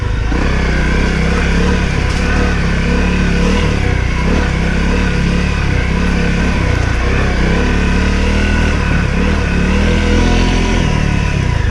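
A Honda CRF250L dirt bike ridden off-road through thick mud, its engine loud and close throughout with constant droning and slight throttle swells, no talking.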